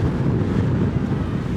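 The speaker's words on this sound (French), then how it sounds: "oh il y a du vent, c'est glacial là, je me prends tout en pleine face" Strong, icy wind buffets the microphone in a continuous low roar on a lookout above the Hanok Village in Jeonju, South Korea, with no voices.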